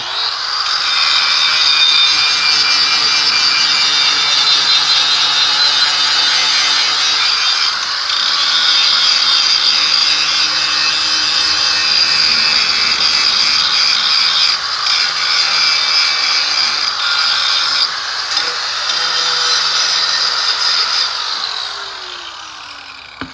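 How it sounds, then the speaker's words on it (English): Metal is ground underneath a steel trailer coupler in a sustained, loud, high-pitched grinding whine with a slight rattle that holds steady for over twenty seconds and then tapers off. "need to grind underneath."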